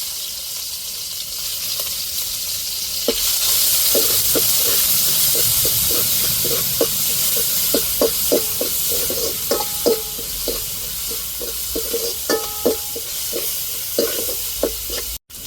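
Chopped onions hitting hot oil with mustard seeds and urad dal, a bright steady sizzle over which a spoon scrapes and taps the pan in a loose rhythm, close and loud, no talking.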